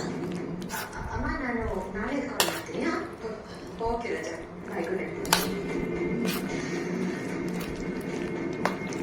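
Lemon pickle being mixed with chili powder in a bowl, a spoon clinking and scraping against the dish in scattered sharp taps while someone talks throughout.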